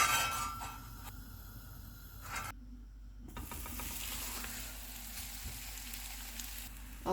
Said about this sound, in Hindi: तवे के ऊपर घी लगाएंगे।